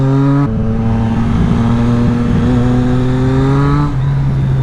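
A Triumph Street Triple S motorcycle engine revs loudly and close up while accelerating through the gears. Its strong tonal drone climbs in pitch, then drops and climbs again with each gear change, with no speech over it.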